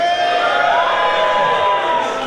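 A live audience at a beetleweight robot combat championship in Bristol cheers and whoops loudly and steadily, with shouting children among them.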